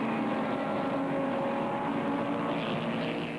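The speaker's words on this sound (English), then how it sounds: "He pulls even with Hansken and passes to take second." 1965-era racing cars, a Ferrari and a Lotus Ford, roar steadily at Daytona, a continuous loud engine drone with a rising whine near the end, no voices.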